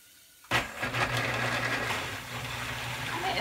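A blender whirs loudly as it purees roasted garlic chowder, starting abruptly and running steadily for about three seconds with a dense, churning motor drone.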